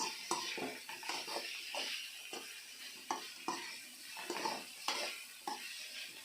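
A spoon repeatedly stirs Rayalaseema eggplant roast curry in a pan, rhythmic scraping strokes about once a second over a soft sizzle, close and fairly quiet, with no talking.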